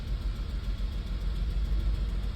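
A car with a misfire problem idles steadily nearby, a continuous low rumble with no change in revs and no voices over it.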